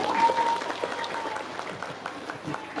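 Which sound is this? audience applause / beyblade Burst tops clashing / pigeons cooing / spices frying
audience applause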